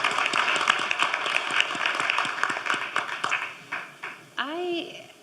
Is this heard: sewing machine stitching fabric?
no